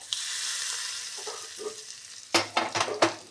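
Drumstick leaves go into hot tempering oil with urad dal and dried red chillies, giving a steady close-up sizzle that breaks into several sharp crackling, clattering bursts as they are stirred.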